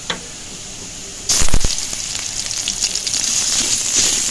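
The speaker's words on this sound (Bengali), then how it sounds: "তো পেঁয়াজটা হয়ে এসেছে, এখন আমি এতে দিয়ে দিব রসুন বাটাগুলো।" Garlic paste hits hot frying onions in a pan with a sudden loud sizzle, then settles into a steady crackling fry that continues to the end.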